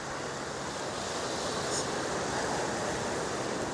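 Ocean surf on Railay beach in Krabi, Thailand, a steady broadband wash of waves mixed with wind noise on the microphone, constant and fairly close with no talking.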